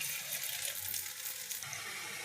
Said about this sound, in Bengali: বড়াগুলোকে আমি ভাজছি